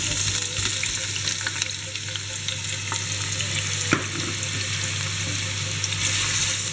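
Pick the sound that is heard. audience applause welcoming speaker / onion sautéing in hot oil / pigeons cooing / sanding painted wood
onion sautéing in hot oil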